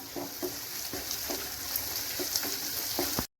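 Okra cooks in a pan with garlic, green chili and curry leaves under a faint, steady frying hiss, with several soft stirring knocks spaced through it before it cuts off abruptly.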